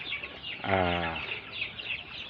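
Young chicks in a poultry farm nursery pen give a single clear, fairly loud call lasting about half a second, with faint chirping and farmyard background before and after it.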